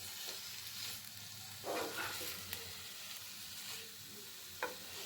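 Mixed vegetables sautéing with spices in a pan, cooked restaurant style: a quiet, steady sizzle with a few soft stirring scrapes and brief louder bursts, and no talking.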